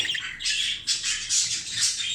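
A ten-day-old budgerigar chick squawks continuously in harsh, raspy bursts, close and fairly loud, with no other sounds.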